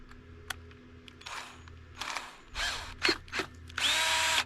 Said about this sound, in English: I'm gonna drill a hole in this